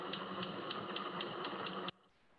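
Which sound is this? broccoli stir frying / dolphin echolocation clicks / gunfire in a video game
dolphin echolocation clicks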